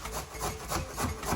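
Vegetables for Haitian pikliz slaw are rubbed against the coarse side of a hand grater in quick, even back-and-forth scraping strokes, close and fairly soft, with no voices.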